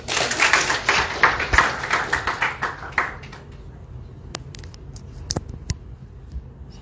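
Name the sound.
audience applause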